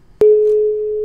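Telephone busy signal: a sharp click followed by a single steady electronic tone that holds clearly and loudly, alone without talk.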